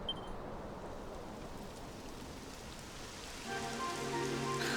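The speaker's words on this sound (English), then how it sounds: "It would have to go and start raining, wouldn't it?" Rain falls in the video game Dragon Quest XI, a steady hiss of drops on surfaces that grows denser and louder toward the end, with a faint tonal background.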